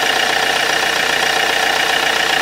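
A car engine runs steadily at a constant, fairly loud level, with no distinct rev rise visible during the stretch.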